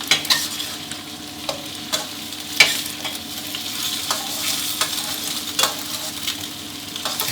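Eggs stir-fry in a hot pan for a Thai shrimp and garlic-chive flower dish, giving a steady loud sizzle broken by occasional sharp scrapes and taps of a spatula, with no talking.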